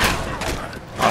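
Gunfire in Fallout 4: a short burst of loud, sharp shots with booming thuds, close and punchy, over about a second.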